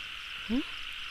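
A single short, low croak from a yellowish frog emerging at night during the year's first rain, fairly faint against a steady background of insect buzz.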